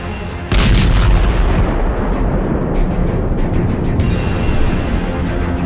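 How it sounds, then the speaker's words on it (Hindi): Explosions from strikes on Iran's Kharg Island: a sudden loud blast sets off a heavy, sustained roaring rumble with crackling bursts layered through it, staying powerful and dense to the end with no voices. "ईरान की जान खर्ग द्वीप पर होते जरा इन धमाकों को देखिए"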